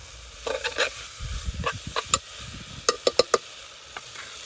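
Food frying in hot oil over an outdoor fire in Ghana, a steady background sizzle broken by sharp spattering pops and a few stirring knocks, close by and with no talking.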